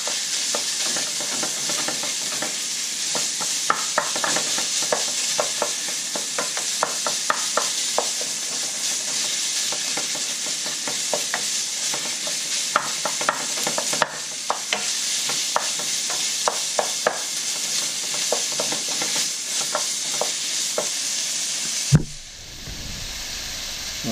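Ground lamb fries in a pan, rendering its fat with a steady loud sizzle and hiss, broken by frequent light scrapes and knocks of stirring, ending with a sharp clank.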